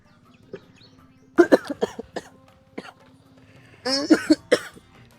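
Two bursts of harsh, throaty coughing, each a quick run of several coughs, close and loud against a quiet room with a faint low hum.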